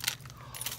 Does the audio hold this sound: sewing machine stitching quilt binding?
no